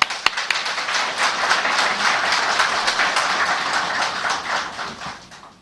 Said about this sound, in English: And this deserves an applause.